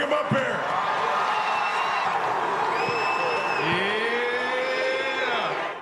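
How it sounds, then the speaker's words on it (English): Crowd noise at a live football-related event rises as a steady, loud wash, with whistles and whoops sliding over the crowd and voices talking throughout. "It's kind of a strange crowd noise"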